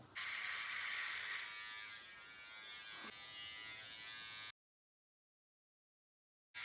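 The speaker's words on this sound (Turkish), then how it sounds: "tüm benliğim olan sakallarımı şimdi kesiyorum" Electric clippers shaving off a beard, a loud close buzzing that rasps steadily through the hair, then stops suddenly into silence before a brief return at the very end.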